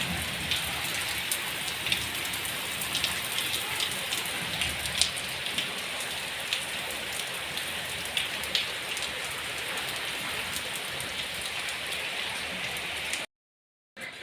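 Steady rain pours down continuously, a dense hiss of drops pattering on surfaces close by, with occasional louder drips, before cutting off abruptly.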